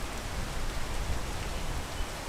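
Steady rain in the video game PEAK, a dense, even hiss of falling water that fills the whole moment without pauses or voices.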